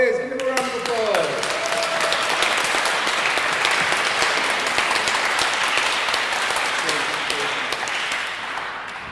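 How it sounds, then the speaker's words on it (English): Audience applause welcoming a performer onto the stage at a spoken word and waffle night, a dense, sustained wash of clapping lasting about nine seconds that tapers slightly at the end, with faint voices underneath. "give him a round of applause"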